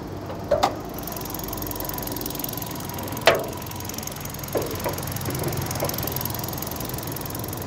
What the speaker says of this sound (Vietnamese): máy nổ êm như máy mới